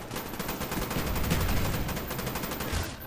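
Rapid automatic gunfire rattles in a Call of Duty: Black Ops PC multiplayer match, a dense, sustained burst of shots throughout, loud and close with no pause.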